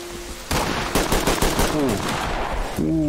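Rapid bursts of automatic weapon fire from a video game SWAT raid operation, loud and close, with short broken volleys and a hard-to-control gun, a faint tone heard before the shooting starts.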